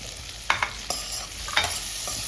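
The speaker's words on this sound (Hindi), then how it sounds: "इसको भी हमें अच्छे से फ्राई कर लेना है।" Green chillies and capsicum frying in a pan for an egg malai masala gravy, with a steady sizzle and a few sharp stirring scrapes and clinks, close up and without talk.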